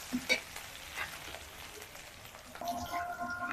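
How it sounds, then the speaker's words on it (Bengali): Crushed ginger and chopped green chillies fry in a pan for vegetable chops, giving a soft, steady sizzle with light stirring scrapes, quiet and close. "আদা কাঁচা লঙ্কাটাকে ভালো করে ভেজে নিতে হবে"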